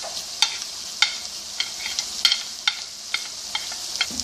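Cumin seeds roasting in hot oil in a pan with onions, a steady soft sizzle punctuated by regular crisp scraping strokes of a spoon, close and moderately loud, with no voices.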